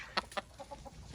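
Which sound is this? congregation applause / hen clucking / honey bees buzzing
hen clucking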